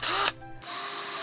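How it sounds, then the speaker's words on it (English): A handheld power drill whines at high speed, briefly cuts out and spins down, then revs back up to a steady loud buzz, close and alone with no talk. "and a power drill."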